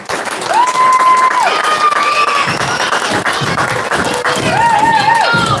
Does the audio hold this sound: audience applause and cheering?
yes